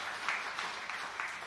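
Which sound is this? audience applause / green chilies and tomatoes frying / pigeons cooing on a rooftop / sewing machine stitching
audience applause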